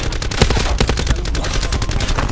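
Rapid bursts of video game gunfire crackle continuously and loudly, dense overlapping shots with no pauses, close and sharp throughout.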